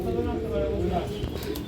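Low, continuous cooing from a pair of farm pigeons sits under a man's nearby speech for the whole short stretch.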